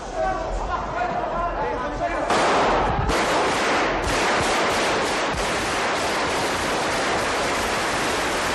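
Loud bursts of gunfire during the 23 February 1981 coup attempt in Spain, with several rapid shots cracking through a harsh, noisy background where voices can also be heard.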